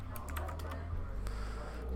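Typing on a busted computer keyboard, a quick irregular run of close clicky keystrokes over a low steady hum.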